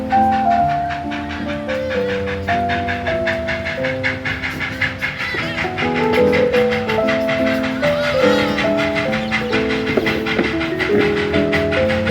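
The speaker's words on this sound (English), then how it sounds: "Come on, train, where are you?" Train arriving on rails in a steam-era Industrial Revolution setting: a steady rhythmic clatter runs under a string of stepped tonal whistle-like notes, moderately loud and continuous for the whole stretch.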